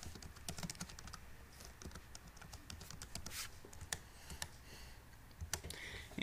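Typing on a computer keyboard while coding a Visual Basic 2013 application: quiet, rapid, uneven key clicks with no other sound.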